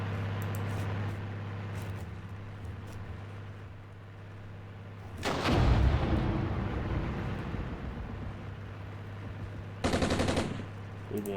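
Gunfire and recoilless rifle shots sound in the Armored Brigade war game. A steady low hum is broken by a loud, booming blast near the middle and a second sharp burst of fire near the end.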